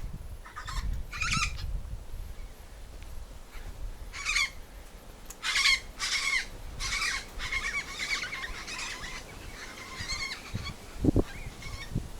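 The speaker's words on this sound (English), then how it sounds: "Got some cockatoos up there." Cockatoos calling from trees on the Nullarbor Plain, a series of harsh, raspy squawks in short bursts at moderate distance, repeating irregularly across the stretch with outdoor ambience and no talk.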